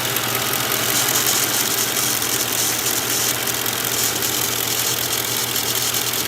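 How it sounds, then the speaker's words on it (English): A Ford Crown Victoria engine idles steadily up close, with a constant low hum and a busy rattling, ticking layer on top, fitting a knocking PCV valve on one bank. It runs unbroken with no talk. "Just sit idle like this, it sounds like there's a valve train issue."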